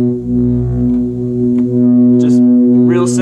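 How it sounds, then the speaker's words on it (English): A warm analog synthesizer pad through a low-pass filter holds a dense, mellow chord with a deep low end, sustained steadily and loudly over a few seconds, with faint higher rustles near the end. "what I have there is just an analog pad sound with a low pass filter on it"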